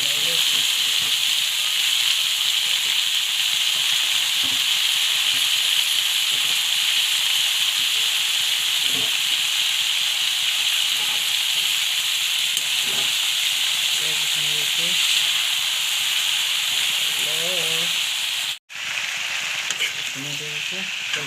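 Banana flower and potatoes frying in spiced masala give off a loud, steady hiss and sizzle throughout, with occasional stirring clinks and a brief cutoff near the end, while a voice speaks now and then.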